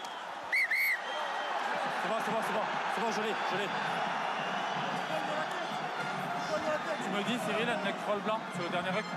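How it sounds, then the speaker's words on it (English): A referee's whistle sounds briefly near the start of a Top 14 rugby match between Toulon and Stade Francais, a short shrill blast over continuous crowd noise and commentary. "there's a whistle that's been blown"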